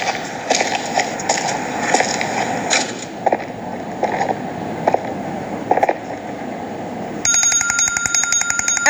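An iPhone alarm clock ringtone plays as a loud run of repeated bright, rhythmic tones, then switches to a denser, higher chiming pattern near the end.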